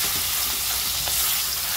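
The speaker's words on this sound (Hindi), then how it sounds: "अभी इसमें खीमा डाल के अच्छे से खीमे को भुनेंगे" Minced meat keema frying in a pan with green chillies, a steady broadband sizzle filling the whole short stretch at even, fairly loud level, close up and without any voices.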